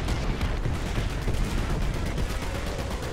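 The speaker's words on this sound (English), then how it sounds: "The artillery strike cucked us big time." Continuous battle din from an artillery strike and gunfire in War Thunder: dense, loud rumbling with scattered rapid shots throughout, no clear gaps, heavy and close.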